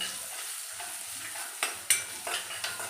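Raw mango pieces tossed with red chilli powder are stirred in a pan, a soft continuous scraping and shuffling with a few sharper knocks of the spoon against the pan near the end, no voices.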